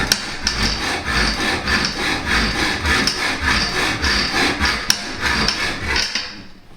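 A hand saw cuts through the top part of an aluminum bathtub glass-door track, with close, rhythmic back-and-forth rasping strokes and occasional sharp clicks, no talk.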